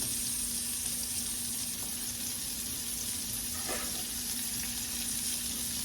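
Food sautés in a little leftover oil in a pan, a continuous close, even sizzle with a few faint clinks and no talking.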